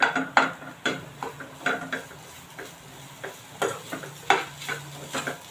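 A spoon stirs a potato and coconut dosa filling in a pan, giving sharp scraping strokes and clinks in an irregular rhythm over a soft, constant sizzle, with no voices.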